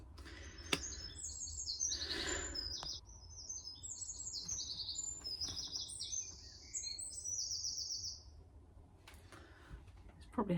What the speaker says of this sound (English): All the birds happy.